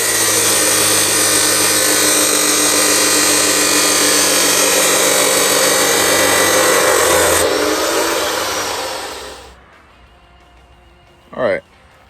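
Loud, continuous whine of a power tool cutting reclaimed metal curtain rods, running steadily for about nine seconds up close before spinning down, followed by a short clank in near quiet.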